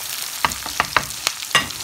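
Half an onion caramelises in hot oil for a vegetarian biryani, a close, constant sizzle broken by several sharp pops and spatters, with no one talking.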